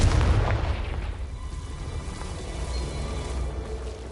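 A Confringo blasting spell goes off in Hogwarts Legacy, opening with a loud booming burst that rolls into a low, rumbling decay of debris and ambience.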